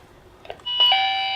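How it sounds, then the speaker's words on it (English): A small doorbell linked to a home door-entry intercom system with a camera rings after a few faint clicks, a loud sustained electronic chime. "So for this wee kind of intercom system that links out to this wee doorbell,"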